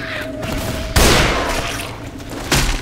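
Rapid gunfire from shooting zombies in the co-op video game Left 4 Dead 2, loud sharp repeated shots with two heavier blasts punctuating a continuous chatter of firing.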